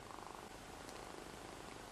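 A kitten purrs steadily and softly at close range, a continuous low rumbling texture with no voices over it.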